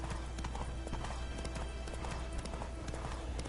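Steady clip-clop of horse hooves at a brisk pace in a Witcher video game, under a constant background rumble, loud and close, with no talking.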